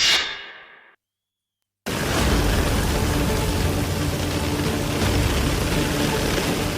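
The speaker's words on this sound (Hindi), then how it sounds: "जापान के कुरुमे शहर में भारी बारिश से हालात बिगड़ गए हैं।" Heavy downpour in Kurume, Japan, a loud dense hiss of rain that starts abruptly after a brief silence and continues steadily at close range.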